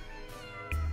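A short, faint meow from a cat in the video game Syrup and the Ultimate Sweet sounds once near the end, over quiet game background sound.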